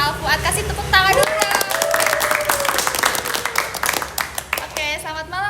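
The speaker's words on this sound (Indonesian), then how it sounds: "Kasih tepuk tangan dulu." A small audience claps to welcome a guest speaker at a student field study session, scattered hand claps of moderate loudness mixed with voices and brief cheerful calls.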